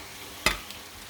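Vegetables and baby spinach sautéed in butter and garlic get one quick scrape-and-toss in the pan, a short burst over a steady low hiss, followed by a fainter second touch.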